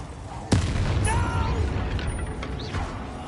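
A sharp explosive blast from the Bombarda spell in Hogwarts Legacy, one loud impact followed by a rumbling tail and scattered debris sounds.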